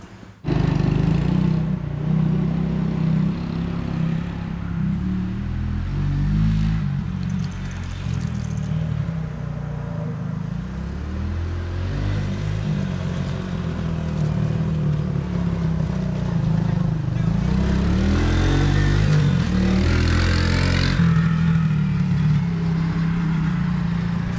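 A Briggs & Stratton 23 horsepower V-twin lawn mower engine, fitted with a bent push rod, runs steadily near at a constant throttle, a continuous loud rumbling drone for the whole stretch with no talk over it.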